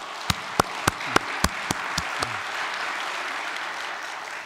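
In a church congregation, a string of about eight sharp, evenly spaced hand claps rings out near and distinct, then settles into a soft, diffuse murmur of clapping that fades.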